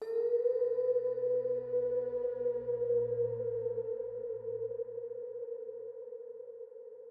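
A sustained synth note with a gentle pitch bend and a low undertone, washed in long reverb and slowly fading toward the end.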